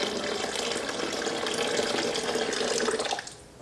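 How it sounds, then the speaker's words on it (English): Water pouring directly into a steamer machine, a steady, close splashing stream that runs continuously before tapering off near the end. "I will be pouring the water directly into the machine."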